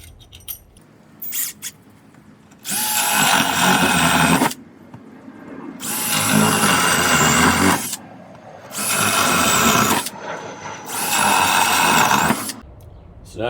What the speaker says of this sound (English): I take a paddle bit and I drill into each corner